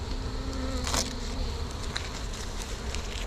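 Honey bees buzzing steadily and close while being moved into a new hive during a relocation, a dense insect hum with a brief louder flare near the start.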